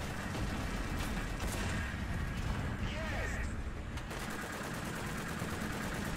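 Tank machine gun firing in a video game, a continuous dense rattle of rapid shots held at steady loudness throughout, with game sounds mixed in.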